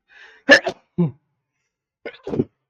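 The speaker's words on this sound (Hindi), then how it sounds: "मैं पहले छींक ले ली" One person sneezes twice in a quiet room where an air conditioner is running, each sneeze short, close and sharp, separated by a brief pause, with no speech around them.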